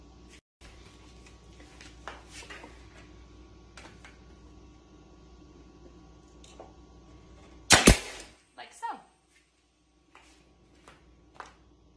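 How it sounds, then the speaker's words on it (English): A nail gun fires into wood boards while a farmhouse-style mantel is being built, giving one sharp, loud crack over a quiet room hum, then a softer second shot about a second later. "once you have it nice and even, you can just nail gun them in"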